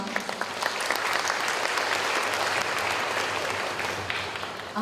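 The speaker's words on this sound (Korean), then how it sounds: "여러분 박수 한번 부탁드립니다." An audience at an international academic conference on UNESCO-designated heritage claps steadily for several seconds, a dense, even roll of applause filling the hall.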